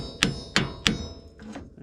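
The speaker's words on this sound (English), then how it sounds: "I've got my whittle hammer." Three sharp hammer blows strike a Jeep YJ driveshaft part, evenly spaced and close by, followed by a softer knock.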